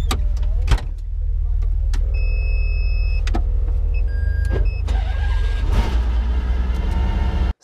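A street-legal, 750 hp naturally aspirated race car engine roars close up at the Nürburgring, blaring loudly and continuously with sharp shifts and high whining tones before cutting off abruptly.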